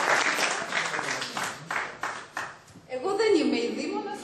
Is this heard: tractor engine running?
no